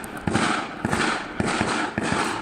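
New Year fireworks exploding outdoors, a series of loud booming bursts every half second or so with crackling in between, continuous and close with no talking.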